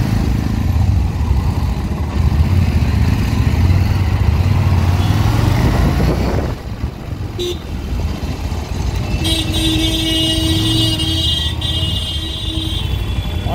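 Harley-Davidson Street Rod 750 motorcycle riding through heavy traffic, a steady loud engine drone with surrounding road noise, a passing shift near the middle, and distant horn toots toward the end.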